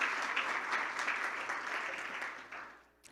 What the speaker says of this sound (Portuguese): Você pode dar um aplauso?